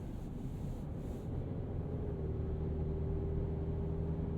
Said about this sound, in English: you hear that turbocharger compressor